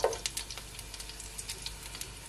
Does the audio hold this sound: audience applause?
no